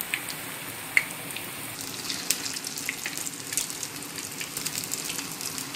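Dahi bhalla batter frying in hot oil in a pan over low to medium heat, a steady soft bubbling sizzle with occasional small pops, fairly quiet and continuous with no talk.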